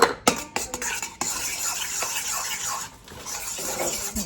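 Cocoa chocolate frosting being stirred in a bowl, a steady scraping and swishing of a utensil against the sides, close and continuous, with a few sharper clinks at the start and no talk.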